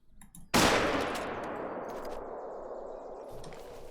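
A hunting rifle fires in the hunting game theHunter: Call of the Wild: one sharp, loud, close shot whose echo rings out and slowly fades across the open landscape.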